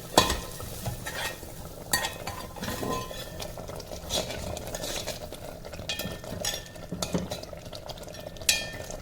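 Spices such as coriander powder and garam masala being stirred and fried for dal, a spoon scraping the pot in repeated strokes over a soft, steady sizzle, close and clear with no talk.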